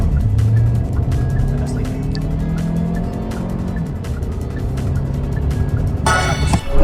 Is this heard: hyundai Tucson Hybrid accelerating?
yes